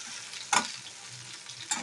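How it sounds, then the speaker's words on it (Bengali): Fried vegetables being stirred into ground mustard in a pan, a faint low sizzle broken by two sharp scraping clinks of the spoon, no voices. "সর্ষেটা হালকা নেড়ে চেড়ে আমি দিয়ে দেবো ভাজা সব সবজিগুলো।"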